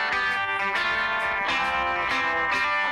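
An electric guitar lick from a song rings out loud and bright, with sustained, harmonically rich notes and fresh attacks roughly every half second, played alone with no talking.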